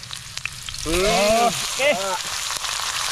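Pork ribs sauté in a hot pan for a ribs-with-malunggay dish, giving a steady, close sizzle throughout. A person talks over it briefly.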